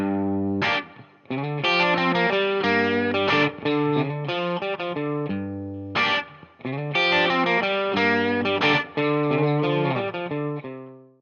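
A distorted electric guitar plays a blues lick, two repeated phrases of bent, sustained notes with a thick chorused tone, loud and close.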